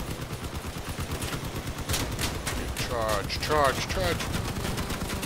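Gunfire rattles in the vehicle combat game Crossout, bursts of weapon fire and engine rumble running throughout while a player talks over the action.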